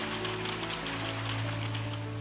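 A storm with steady heavy rain pours down in a children's story, a dense hiss of drops mixed with a soft, low musical drone underneath.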